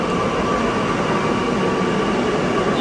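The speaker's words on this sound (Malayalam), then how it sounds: "മെട്രോ എത്തിയിരിക്കുകയാണ്" A metro train pulls into a station in Kochi, a steady, loud rumble of wheels and motor with a faint high whine running throughout, continuous and unbroken with no voices.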